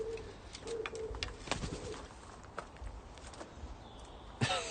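An indoor pet pigeon gives soft repeated coos early on, followed by light scratching and tapping sounds and a brief sharp noise near the end.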